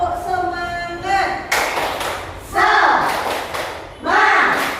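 A classroom of children claps along to a rhythmic "tepuk semangat" chant, with loud bursts of clapping mixed with voices chanting in rhythm.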